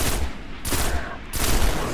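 Loud bursts of automatic gunfire in a video game, three long sustained volleys separated by brief gaps, heavy and close with no talk over them.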